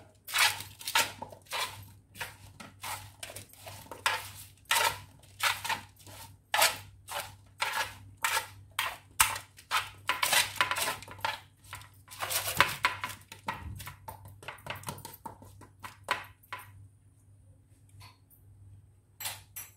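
Chicken sandwich filling with thyme being stirred and mixed in a bowl, giving repeated sharp clattering and scraping strokes in an uneven rhythm, close and moderately loud, with no voices.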